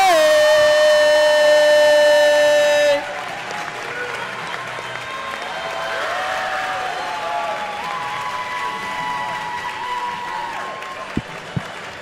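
An arena crowd at a basketball league finals roars with cheering and applause, loud and sustained; a tonal horn or buzzer blares over it at the start, then the crowd noise continues with a couple of sharp knocks near the end.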